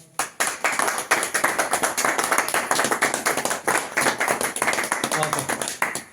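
Repeated group hand clapping for another take of a song video shoot, brisk and even, sustained for several seconds at close range with faint voices mixed in.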